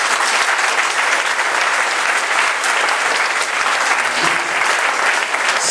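Steady, loud applause from a church audience acclaiming the Lord at a mission gathering in Haiti, a dense, even wash of clapping that holds without a break throughout.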